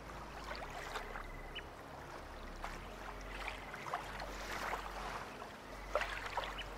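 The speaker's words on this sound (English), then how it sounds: "Hearing the soothing sounds of the water in the background." Gentle water laps and trickles around tidepools on a rocky shore. The sound is faint, continuous and soft, with small irregular splashes and bubbling over a low steady wash, and no voices.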